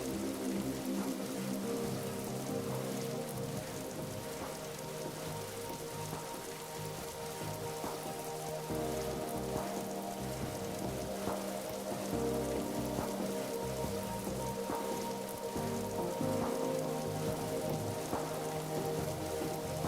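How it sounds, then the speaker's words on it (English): Steady video game rain in American Truck Simulator patters on a surface, constant and even throughout, with no voices. "of course it's raining"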